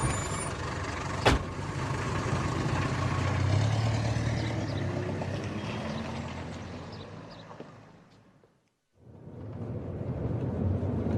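A taxi driving along a road while tailing another car: steady engine and road rumble with passing traffic, one sharp knock early on, and a brief near-silent gap before the motor noise returns.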